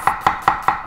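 Onions roughly chopped with a knife on a cutting board, five quick, evenly spaced crisp chops, close and clear with no talk.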